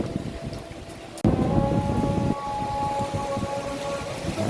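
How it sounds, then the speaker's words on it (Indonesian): Heavy rain pouring over the city of Banda Aceh, a steady dense hiss of rainfall with a sudden louder burst partway through, continuous and close with no talking. "di kota Banda Aceh dari semalam jam 10 hujan sampai sekarang masih diguyur hujan"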